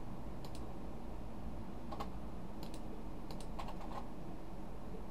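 Keystrokes on a computer keyboard while entering details into a web form, a few scattered soft clicks over a steady background hiss, no voices.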